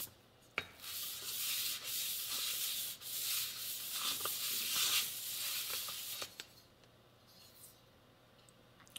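Gritty rhythmic rubbing of an engine cylinder head being lapped flat on an abrasive surface with grit, a steady scraping swish that stops abruptly toward the end, close and fairly quiet.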